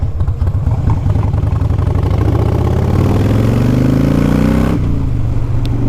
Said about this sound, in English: This bike has a nice sound to it. It's not too loud, but it's not too quiet.